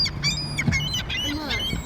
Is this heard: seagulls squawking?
yes